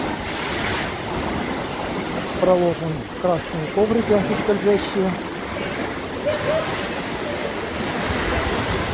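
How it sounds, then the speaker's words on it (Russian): Evening sea waves roll in at a hotel beach at the Ramada Plaza Antalya, a steady close wash of surf that continues throughout while a person talks over it. "Под вечер обычно всегда поднимаются волны."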